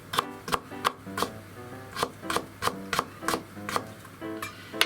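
Sharp knife strikes knock against a cutting board while chopping ginger, in a quick, fairly steady rhythm, about a dozen chops, close and clear with no talking.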